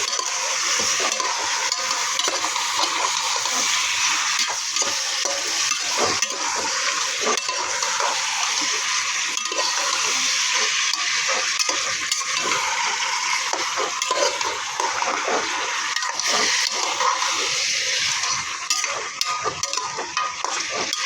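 Chicken tinola being stirred in a pot, a steady close scraping and sloshing with a constant simmering hiss that runs unbroken throughout, with no talk.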